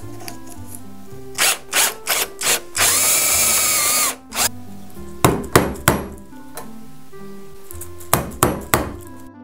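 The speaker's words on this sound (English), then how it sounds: "now I'm gonna cut the other side of the leg" A power tool cuts through the leg of a workbench built from glued 2x6 lumber, giving loud bursts of whirring and grinding in short repeated passes, with one longer, harsher sustained cut in the middle.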